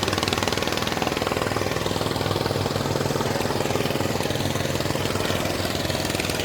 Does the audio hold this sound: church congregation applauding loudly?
no